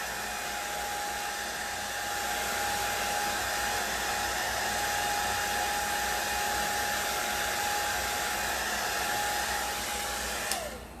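A hair dryer blows steadily and loudly at close range, drying paste on a chalkboard for about ten seconds before clicking off at the end.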